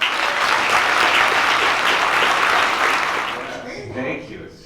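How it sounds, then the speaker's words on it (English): Audience applause greets two special guests at a RiverRun Retro film event, dense and steady clapping from a large crowd that fills the room, then tapers off near the end as a voice begins. "please join me in giving a huge RiverRun Retro welcome to our very special guests, Dale Pollock and Veronica Cartwright."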